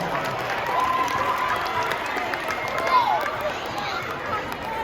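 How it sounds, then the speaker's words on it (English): A school assembly audience gives a round of applause during a spelling game, a steady wash of clapping mixed with crowd noise and chatter that carries through the whole stretch. "Give her a round of applause for trying."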